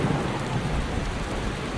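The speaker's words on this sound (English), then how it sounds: "I can't actually hear anybody over the thunder." Steady heavy rain hisses alongside a low rumbling thunder in Skyrim Special Edition, a dense, continuous storm wash with no voices.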